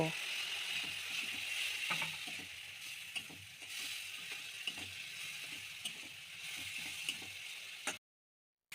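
A turmeric and chilli spice masala simmers with a little water in a pan, giving a low continuous sizzle dotted with small clicks and scrapes of stirring, then cutting off to silence at the end.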